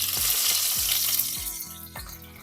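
Curry leaves hit hot oil in a pressure cooker and sizzle in a steady, hissing fry, close and fairly loud, with a few low knocks repeating underneath.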